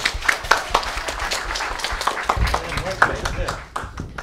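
Audience applause at a YouTube channel fan event in Tokyo, scattered sharp claps mixed with crowd noise and voices talking over it, fairly near and lively.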